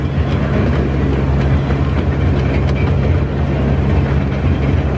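A fast-moving theme park train ride at Tayto Park rumbles along in a steady, loud, continuous roar with a faint rhythmic clatter, close by and with no talking.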